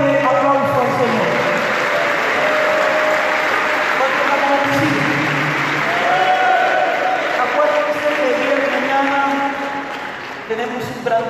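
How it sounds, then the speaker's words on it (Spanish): A church congregation claps loudly in praise, a sustained crowd applause with voices and sung tones mixed in throughout, fading slightly near the end. "Le damos un fuerte aplauso al Señor."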